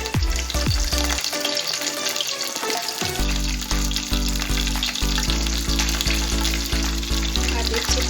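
Bay leaf, curry leaves and whole garam masala spices crackle and sizzle steadily in hot oil for a vegetarian dish, a loud continuous frying hiss with rhythmic stirring knocks throughout.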